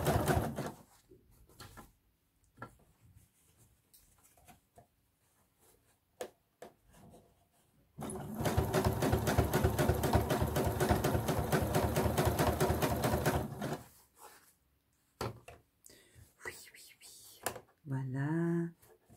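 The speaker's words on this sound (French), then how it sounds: "Moi, je vais faire la petite surpiqûre habituelle que l'on fait dans ce genre de réalisation." Sewing machine topstitching a ribbon scrunchie, running in one steady rapid stitching burst of several seconds between quieter handling noises and faint talk.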